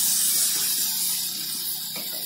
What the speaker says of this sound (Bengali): ভালো করে ভেজে নেব, সুন্দর করে তেল ছাড়া অবধি কষাতে হবে।